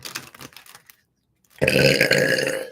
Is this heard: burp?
yes